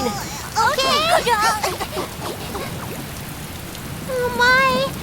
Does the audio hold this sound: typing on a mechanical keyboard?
no